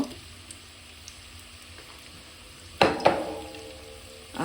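Onion and garlic frying in a pan for fish-head muri ghonto give a quiet background sizzle, then two sharp bursts of spitting and stirring, with another rise at the very end.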